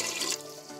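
Water pours into a pressure cooker over goat meat seasoned with salt, garlic powder and chili, a steady close splashing rush that eases into a softer trickle.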